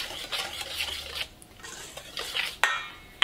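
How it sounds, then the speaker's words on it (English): Dry pancake ingredients, including baking soda and sugar, are gently whisked in a bowl, producing soft scraping swishes of the whisk against the bowl in short strokes, close up, ending in a sharper clink. "And you're going to just gently whisk that together just to make sure everything is mixed"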